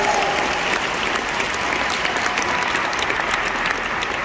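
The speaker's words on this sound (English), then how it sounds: "How about some applause for that?" Audience applause fills a Detroit theater at a movie premiere, a steady dense wash of clapping from a large crowd that holds evenly for several seconds.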